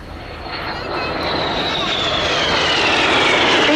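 Display jets at the RAF Cosford Air Show make a close pass, a loud jet-engine roar that swells steadily with a rising whine, while an announcer talks over it.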